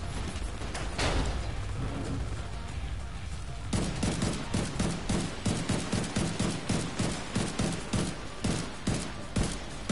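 Rapid volleys of gunshots in The Division 2 prologue, a steady string of sharp, evenly spaced cracks firing close and loud through the second half.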